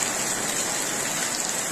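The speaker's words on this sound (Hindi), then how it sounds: "और काफ़ी अच्छा बारिश यहाँ पे देखा जा सकता है दोस्तों।" Steady rain pours down at a rural railway station in Bihar, a dense, even hiss of drops on surfaces that fills the scene without a break and with no voices.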